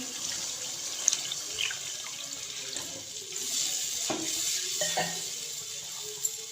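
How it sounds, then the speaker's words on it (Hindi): Water poured into fried masala in a cooking pot for kofta curry gravy, a steady running splash with light clinks, close and alone. "इसके अंदर 2 गिलास पानी का डाल दूंगी।"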